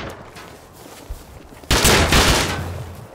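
Automatic rifle fire in the survival game Rust, an AK, bursts into a loud, sustained volley of rapid shots after a quieter stretch with a few scattered earlier pops.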